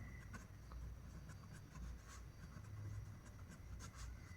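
A pen scratches softly and steadily across paper during a Hindi science lesson on images formed by lenses, faint and continuous with no voices over it.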